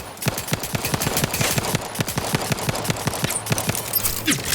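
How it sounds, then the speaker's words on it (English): A speedy light pistol fires in the video game The Outer Worlds 2, with rapid regular shots cracking out one after another for several seconds. The reports are loud and close, with no talk over them. "Oh, this is a speedy light pistol."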